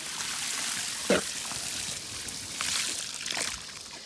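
Water poured out for ducks outdoors, a steady trickling wash with a brief louder splash, heard close over a broad hiss of outdoor background.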